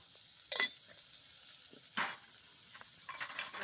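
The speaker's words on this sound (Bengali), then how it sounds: "পেঁয়াজটা একটু লাল করে নেব।" Raw onions in mustard oil hiss softly in a kadai as a spoon stirs them, with a few sharp scraping clinks against the pan over a faint, steady sizzle.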